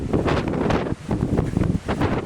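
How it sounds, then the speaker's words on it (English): Strong wind at a hilltop campsite buffeting the microphone, a loud, continuous roar with gusty surges and one brief lull. "It is so windy up here, I'm having to lean into the wind"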